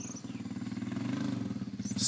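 Motocross motorcycle engine sputtering as it runs out of fuel, heard from a distance as a rapid, pulsing putter that holds steady, then falters near the end.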